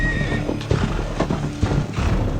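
In the video game West Game, a horse neighs with a shrill whinny while hooves clip-clop beneath it, set against a busy, continuous game soundscape.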